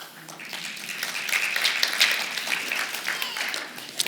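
An audience at a ministry teams gathering applauds a building-team leader: a steady wash of mixed clapping that swells and holds for several seconds at moderate loudness, with faint voices underneath.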